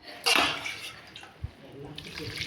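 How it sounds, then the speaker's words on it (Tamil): Water splashes briefly into a cooker pot of rice, then a quieter trickle and a few soft clinks follow, with faint background noise. "தண்ணி இப்போ ஊற்றி வச்சுக்கோங்க."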